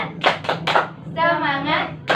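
A classroom does the rhythmic 'tepuk semangat' clap: three sharp, evenly spaced claps, then a sustained chanted voice, then another clap, all close and clear.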